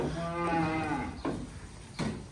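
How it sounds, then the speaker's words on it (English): Cattle moo in a farm pen, one long, drawn-out low call followed by two shorter, fainter calls, close by and quiet. "So we've got new cattle in this pen."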